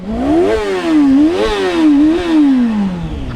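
A stock-exhaust Honda Hornet 600 four-cylinder motorcycle engine revs up and down three times in a row, loud and close, its pitch rising and falling in smooth sweeps with no talk over it.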